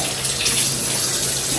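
Steady rush of water running from a tap into a sink, continuous and fairly loud, with no voices.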